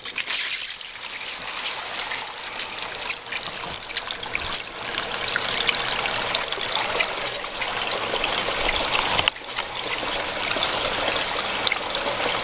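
Water rushes steadily through a running DIY fluid bed sluice box, a continuous close bubbling flow with no talk.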